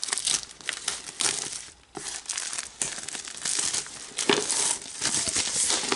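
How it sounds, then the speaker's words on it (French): A Magic: The Gathering Zendikar Rising bundle is unwrapped, its plastic packaging loudly crinkling and tearing in near-continuous bursts close by, with no voice. "on va ouvrir le bundle afin de découvrir ce qu'il y a à l'intérieur"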